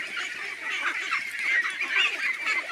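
Ducks and ducklings on a duck farm in the Chalan Beel wetland near Natore, a dense, continuous chorus of honking and quacking calls close by, with no voices over it.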